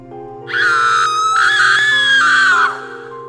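A woman lets out a long, loud, high-pitched scream of terror, rising and holding for about two seconds before cutting off, close and alone.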